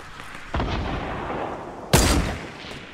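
Gunfire in the video game Fortnite: two sharp, loud shots roughly a second and a half apart, the second louder and harsher, each with a short booming tail over steady background game noise.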